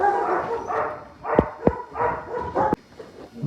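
Shelter dogs at feeding time give a few sharp close barks, yips and whimpers in quick succession, loud against a low background hum.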